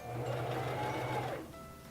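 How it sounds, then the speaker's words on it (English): A Singer Fashion Mate 3333 sewing machine stitching a buttonhole gives a short, fairly quiet motor whirr with rapid needle rhythm for about a second and a half, then stops. "you will stitch that for about 6 to 8 stitches"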